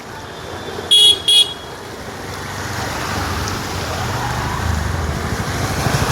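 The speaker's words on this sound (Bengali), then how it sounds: "এই যে দেখো এই জলের মধ্যে দিয়ে কিন্তু গাড়ি ঘোড়া সব আসছে।" Cars and other traffic wade through a waterlogged street in the Tidhara Club Para area of Balurghat after a few hours of rain, a steady watery rushing swell with two short horn toots near the start.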